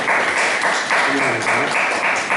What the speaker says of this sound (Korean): 박수 한번 하실까요?